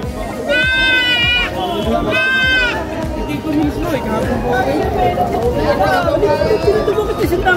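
Several goats bleat loudly, two clear wavering calls up front, amid a busy crowd of chattering voices and general outdoor commotion.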